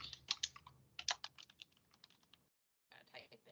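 Someone types a password on a computer keyboard: a quick, uneven run of crisp key taps, then a brief silent pause before a few more keystrokes follow, close and clear with no talking.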